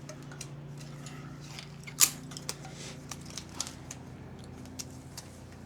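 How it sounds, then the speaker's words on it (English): A suspension seat strap on a Cobra being cut: one crisp snip stands out, followed by small ticks and clicks of handling, close and quiet, with no talking. "we're going to cut the strap this time and show y'all how to adjust these"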